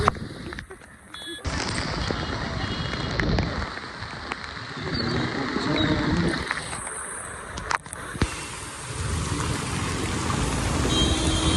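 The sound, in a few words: heavy rain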